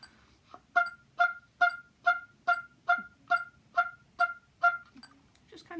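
An oboe plays a steady train of about ten short, crisp, evenly spaced notes at two per beat, double-tongued with precise attacks, close and clear with a quiet background.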